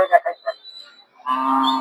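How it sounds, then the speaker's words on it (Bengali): A cow at a rural cattle market in Narsingdi, Bangladesh, lets out a loud, long, low moo after a few brief muffled sounds, the call holding steady until the end. "একটা গরু আছে"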